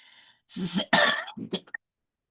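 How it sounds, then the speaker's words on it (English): A person coughs and clears their throat in a short, rough burst of several hacks, close and fairly loud, then goes quiet. "I thought I was over this cough."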